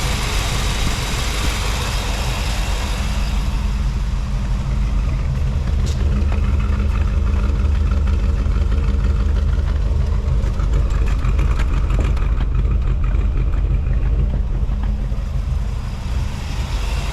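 A 1957 Ford Thunderbird V8 idles steadily after a cold start, a continuous low, even rumble heard close up and alone, with no talking.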